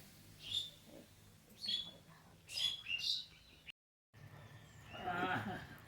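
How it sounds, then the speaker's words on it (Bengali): Tame pet pigeons feeding near a home, giving soft intermittent chirps and calls in short bursts against a quiet background. "আমাদের পোষ মানা পায়রা"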